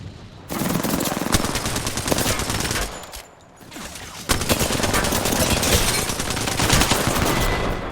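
Rapid automatic gunfire aimed at the player in the video game Apex Legends, loud dense bursts that pause briefly before resuming, with no talk.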